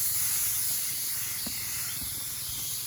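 A power sprayer misting eggplant and bitter gourd plants gives off a steady, close hiss of spray that runs unbroken, with a few faint knocks underneath and no talking.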